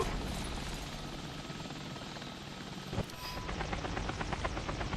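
Helicopter in the War Thunder video game, a steady dense rotor and engine roar filling the whole clip, loud and continuous with a brief thump partway through.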